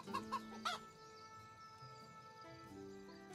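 Chickens cluck at a henhouse in the farm video game My Free Farm, three quick clucks up front over a soft, steady game background with faint tonal hum, no talk.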